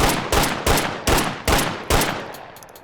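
Six sharp, loud gunshots fired as fast as the trigger can be pulled, evenly spaced at about two per second, each crack trailing off quickly, no voices.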